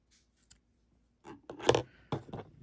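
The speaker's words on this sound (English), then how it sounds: "I'm going to cut my yarn" Scissors snip through yarn close up, a couple of quick crisp cuts following a soft rustle, brief and fairly quiet in an otherwise still room.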